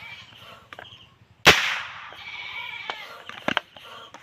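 A homemade PVC toy gun fires once with a single sharp, loud pop, followed by lingering background noise and a few quieter clicks and knocks a couple of seconds later.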